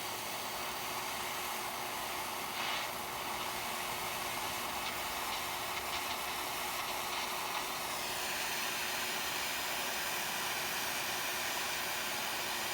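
A MAP gas torch hisses steadily while heating a leaking car radiator, a faint continuous rush of gas with a slight change in tone partway through, no voices.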